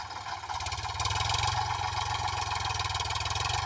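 A tractor engine runs close by with a steady, pulsing low chug and a slight rise in intensity about a second in, continuing evenly until it cuts off abruptly at the end; no voices.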